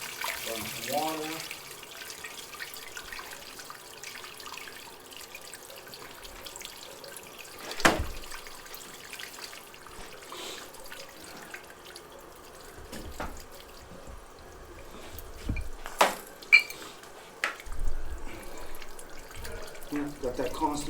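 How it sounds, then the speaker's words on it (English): Water runs steadily from a tap in a dealership restroom, a low continuous trickle with a few sharper splashes and clunks breaking through, fairly faint and close. "Got that constant water going."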